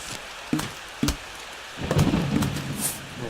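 Thunder and rain from the Plants vs Zombies video game: two sharp cracks early, then a rolling rumble with steady rain hiss running underneath to the end.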